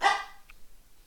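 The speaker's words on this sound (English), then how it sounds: "Now she's barking." A pet dog gives one short, sharp bark up close in a quiet room, followed by a faint softer yip.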